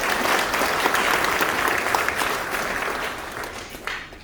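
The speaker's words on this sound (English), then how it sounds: "Please give yourselves a round of applause." An audience at a New York welcome reception for President Irfaan Ali breaks into loud, dense applause that holds strong and then gradually tapers off near the end.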